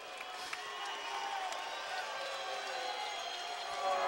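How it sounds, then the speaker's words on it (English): Boxing arena crowd at the Humberto Soto vs Urbano Antillon WBC lightweight title fight applauding both fighters while awaiting the decision, a steady wash of clapping and crowd noise with no distinct peaks. "And the crowd, with a round of applause for both true warriors as we wait for the decision."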